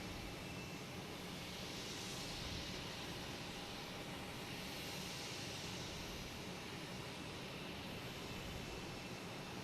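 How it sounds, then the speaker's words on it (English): An American Airlines Embraer E-175 regional jet arrives at Boston Logan, heard as a faint, steady, distant jet rumble mixed with broad airport background noise and no talk. "And here's American Airlines coming in from Louisville."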